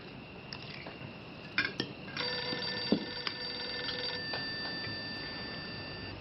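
A landline telephone rings in a family home during a meal, a ringing burst of about two seconds at moderate loudness, with faint clinks of dishes and cutlery around it.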